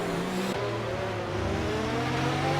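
Racing game cars at Spa-Francorchamps roar close by, one engine pitch dropping abruptly as another takes over and climbs, a short, loud burst of mixed engine tones.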